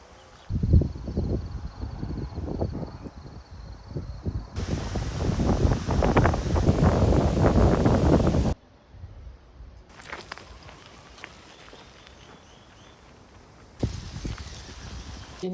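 Wind buffeting the microphone during an outdoor walk, gusting in loud rough stretches with crunching footsteps underneath, easing to quieter passages between heavier blasts.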